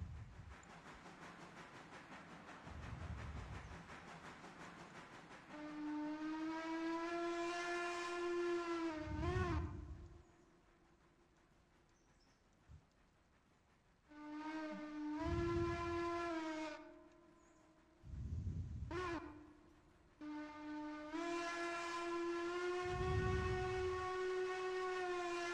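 A freight locomotive horn in the Railroader video game sounds three long, loud blasts with short pauses between them, over a low rumble of the train.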